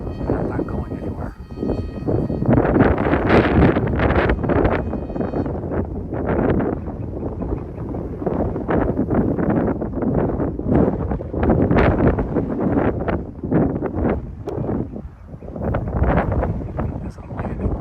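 Gusty wind buffets the microphone on a windy afternoon while a Vista model plane flies into the wind at full throttle, a loud, continuous rough roar with repeated surging gusts throughout.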